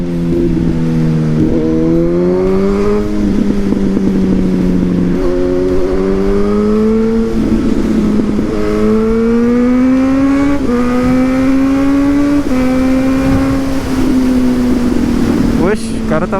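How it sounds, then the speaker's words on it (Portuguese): Suzuki GSX-S1000 motorcycle with a Yoshimura exhaust, a loud close engine whine rising and falling through repeated revs and gear shifts as it pulls away, steady throughout. "Olha o carro saindo, ó."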